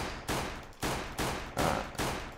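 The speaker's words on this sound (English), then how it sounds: "let's shoot at NanoRex a little bit" Pistol shots from a modded pistol in vanilla Minecraft fire in a steady rhythm, four or five evenly spaced loud cracks, each trailing off into a sustained noisy tail, with no voices.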